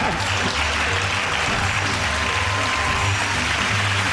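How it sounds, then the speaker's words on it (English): Studio audience applause on the comedy panel show Mock the Week, a dense, even wash of clapping filling the whole few seconds without speech. "give that round of applause to James, Sara and Andy"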